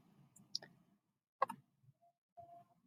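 Computer mouse clicks while drawing a logo design on screen: two sharp, fairly faint clicks about a second apart over a quiet low background hum.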